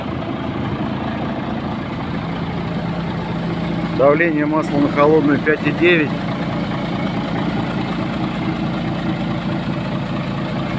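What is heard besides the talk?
MAN TGA 18.412 truck tractor diesel engine idling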